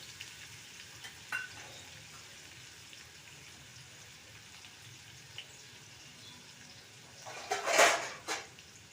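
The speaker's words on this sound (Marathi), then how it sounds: "आता कांदा व्यवस्थित आपल्याला फ्राय करून घ्यायचा" Chopped onion fries in hot oil with mustard seeds, cumin and asafoetida for a dhaba-style potato and capsicum curry. A soft, steady sizzle runs throughout, and a louder burst of stirring and scraping comes near the end.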